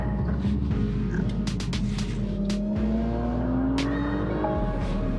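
A Porsche Macan GTS SUV drives along a winding road with a steady engine drone whose pitch climbs smoothly as it accelerates. It is heard from inside the cabin, with no talking.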